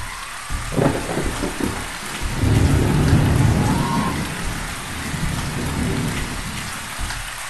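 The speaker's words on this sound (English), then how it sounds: "now I got rain" Heavy rain pours steadily with a deep rumble of thunder swelling in the middle and fading out, close and loud throughout with no voices.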